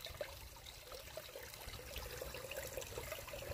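Water trickles and splashes through garnet-bearing dirt held in a kitchen strainer, a soft continuous wash of running water, fairly faint and steady, with no voices.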